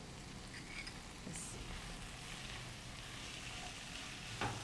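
Chopped vegetables and jowar noodles sautéing in a hot pan with tomato over a raised gas flame, giving a steady, even sizzle and faint frying crackle throughout, heard close and alone with no talking.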